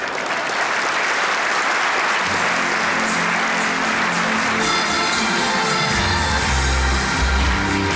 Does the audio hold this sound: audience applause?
yes